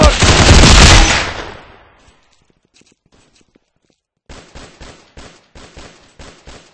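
Gunfire in the tactical shooter video game Unit:Classified: a loud, dense burst of automatic fire up front fades out, then after a quiet gap a series of sharp, evenly spaced single shots rings out.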